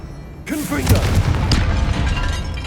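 A Confringo blasting spell goes off in Hogwarts Legacy, a sudden loud boom at about half a second followed by a rumbling, crackling roar that keeps sounding under game noise.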